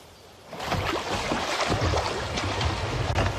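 Rushing whitewater rapids on the Pegnitz river roar and splash close by around a paddled canoe or kayak, a broad continuous wash that builds and stays loud.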